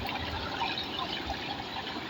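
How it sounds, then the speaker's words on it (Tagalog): Strong water flows steadily outdoors around rocks, a continuous broadband rushing and gurgling wash with no pauses, close and even in level, with no voices. "Malakas ang tubig kasi."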